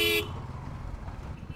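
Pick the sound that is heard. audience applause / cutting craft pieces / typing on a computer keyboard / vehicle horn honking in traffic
vehicle horn honking in traffic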